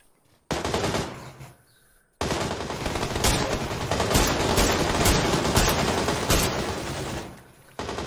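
Rapid bursts of PUBG gunfire, loud and close, with sharp repeated shots and brief pauses between volleys.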